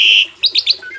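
A female pied myna (jalak suren) calls from inside a cage, giving a loud sustained whistle followed by three quick rising chirps and softer trailing notes, close by with no talking.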